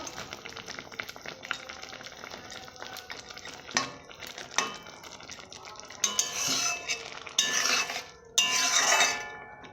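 Fried fish pieces go into a simmering curry in a pan, with a continuous bubbling hiss and several clinks and scrapes of a utensil against the metal.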